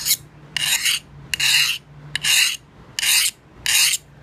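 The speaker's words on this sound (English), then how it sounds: "This file is not actually biting into the steel, it's just gliding along the surface." A metal file rasping along a hardened steel knife blade in six even back-and-forth strokes, each a loud gritty scrape with brief pauses between, close and alone.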